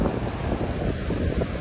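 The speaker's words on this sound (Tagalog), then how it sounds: "grabe ang hanging habagat" Strong monsoon wind at the coast in Placer, Masbate, buffets the microphone in a steady, heavy roar, with a low rumble that could be surf or water underneath.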